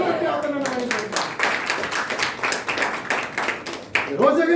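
A congregation at a Sunday Kannada worship service in a Nazarene church claps in a steady, rhythmic burst of many hands, with a voice sounding briefly at the start and end.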